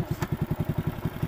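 A Hero motorcycle engine idling nearby, its low, even thumping pulses repeating rapidly at a steady beat with a brief clank early on.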